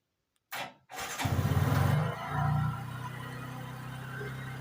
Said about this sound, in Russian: Вот так мотоцикл работает